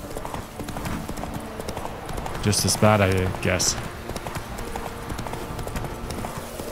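Horse hooves clip-clop steadily while riding in The Witcher 3 video game, a continuous rhythmic trot of moderate loudness with faint rain-like ambience, and someone speaks briefly over it in the middle.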